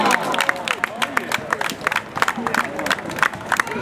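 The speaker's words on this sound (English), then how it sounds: "Please give a nice round of applause for Martina Fassina." A crowd at an FC21 All World street football event claps and cheers for a women's champion, a busy burst of close applause mixed with voices and hubbub.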